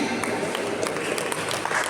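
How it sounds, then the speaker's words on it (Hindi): Audience applause at a badminton championship opening ceremony in a hall, a steady dense wash of clapping filling the space, with talk mixed in underneath. "तालियां हमेशा बजनी चाहिए।"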